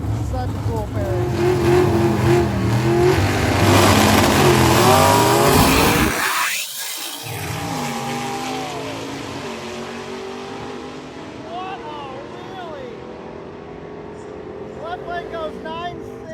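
Gasser drag cars launching down the strip, engines roaring loud and rising in pitch for several seconds before cutting off, then quieter revving and distant engine noise with a commentator talking over it.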